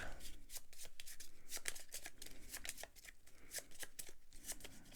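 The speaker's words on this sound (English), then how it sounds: "Shuffle this up." A deck of game cards being shuffled during a solo tabletop session, a steady run of crisp riffling and snapping bursts recurring throughout, close and moderately quiet.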